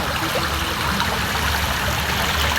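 Spring water flowing in a stream near rice paddies: a loud, continuous rushing and trickling wash, close by and steady throughout, with no voices.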